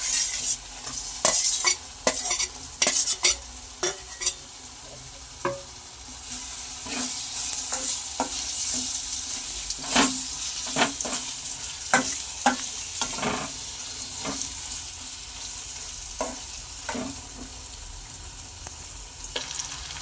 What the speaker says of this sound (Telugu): ఇప్పుడు మనం ఆల్రెడీ కొంచెం బాయిల్ చేసుకున్న స్టీమ్ ఇవి వేసేద్దామండి.